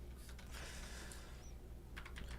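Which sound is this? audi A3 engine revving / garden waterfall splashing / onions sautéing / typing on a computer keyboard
typing on a computer keyboard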